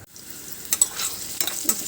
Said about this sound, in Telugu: ఇప్పుడు వేగుతుంది ఇది